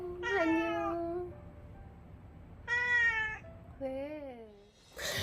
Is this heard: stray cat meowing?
yes